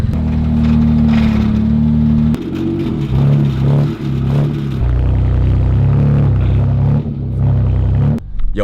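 A BMW F80 M3 with a blown differential and a broken gear drives along in drive. A loud, close, continuous low drivetrain rumble and engine drone shifts in pitch a few times, with no talking.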